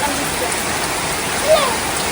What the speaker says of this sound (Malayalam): ഭയങ്കര മഴ ആയതുകൊണ്ടേ ഒന്നും കേട്ടില്ല